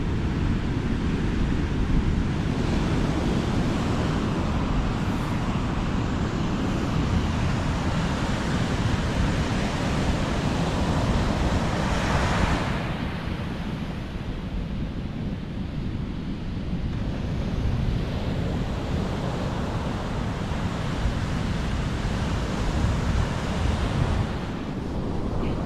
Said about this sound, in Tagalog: Malalaki yung mga alon